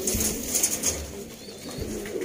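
Pigeons coo softly in a loft of breeding birds kept for sale, short low cooing calls repeating close by over faint background rustle, with no talk.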